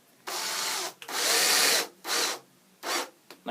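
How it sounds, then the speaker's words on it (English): Cordless drill driver whirs in four short bursts as it sinks a screw into a wooden Adirondack chair slat, each spin loud and gritty with brief pauses between. "Put your drill driver in."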